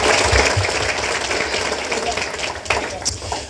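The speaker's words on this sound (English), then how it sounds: "let's give Omnia a nice round of applause for their sponsorship" Applause from the audience at a legislative breakfast event, a moderate round of clapping that fades gradually, with some talking and room noise mixed in.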